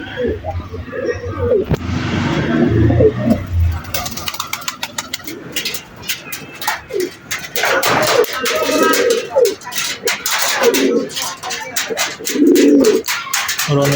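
Pigeons coo repeatedly close by, deep throaty calls overlapping, with wing flutters and some voices talking in the background.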